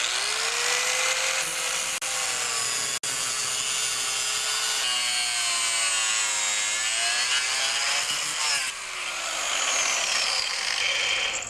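An angle grinder cuts through a metal handle mount on a chainsaw bike, its high steady whine rising and dipping in pitch as the disc bites and loads, loud and close with no talking.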